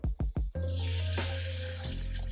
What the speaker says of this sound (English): Then we add a little bit of water as well.